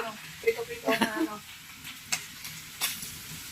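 Vegetables for chop suey sizzle and crackle in a hot pan, with brief clinks of stirring and a voice speaking faintly in the background.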